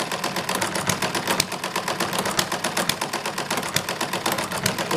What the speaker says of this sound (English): it's the hit and miss mechanism itself is what's making all the noise